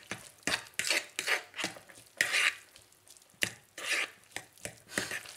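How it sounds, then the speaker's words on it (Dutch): Hot noodles being stirred in a pot, with a series of moderate scraping and sloshing strokes in an irregular rhythm, close by with no voices. "Even roeren."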